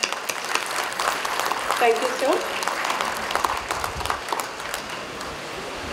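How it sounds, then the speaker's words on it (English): Audience applause at a school sports day ceremony, steady clapping throughout while someone briefly speaks and a short tonal sound rises over it midway. "A big round of applause."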